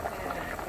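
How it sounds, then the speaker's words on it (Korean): Beef seaweed soup seasoned with fish sauce and soy sauce bubbles steadily in a covered pot, giving a brief, continuous, close burble. "자글자글 보글보글 쫙 끓네요"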